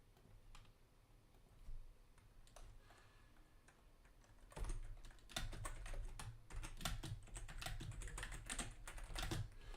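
Typing on a computer keyboard, with scattered quiet key clicks at first, then denser, louder bursts of keystrokes in the second half over a low steady hum.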